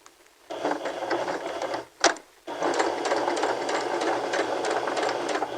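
Sewing machine running a straight stitch at 2.5 length on gathered fabric, briefly stopping and reversing to backstitch: steady close mechanical whir with a short pause and a sharp burst around the break.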